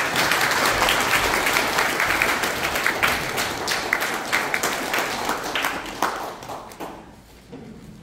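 A council meeting's audience applauds in a hall as the chairman comes forward, with steady dense clapping that holds for several seconds and then tapers off and fades near the end.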